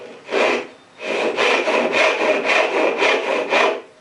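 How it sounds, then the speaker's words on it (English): A frame saw cuts through 3/4 inch poplar in a steady series of about seven close, rasping push-pull strokes, each one distinct and loud, with no other sound around it. "When I set up to saw something, this is 3/4 poplar, and I put this saw in."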